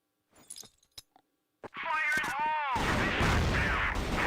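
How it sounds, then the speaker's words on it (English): Grenade blasts and gunfire in a competitive video game match on the Compound map, with a few sharp clicks and shots first, then a sustained loud explosive roar, with commentators talking. "And now the grenades are coming in."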